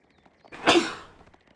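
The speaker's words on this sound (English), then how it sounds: "I'm going to sneeze." A single sudden sneeze bursts out, sharp and fairly loud at first, then trails off into a fading breath; no talking around it.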